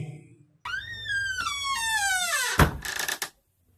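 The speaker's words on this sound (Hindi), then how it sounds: "एक हल्की सी आवाज आई मेरे बेडरूम के बाहर से, दरवाजा बंद होने की आवाज।" A creaking door swings on a drawn-out, rising-then-falling squeal and then shuts with a heavy thud, followed by a brief rattle and silence, in a horror-story sound effect.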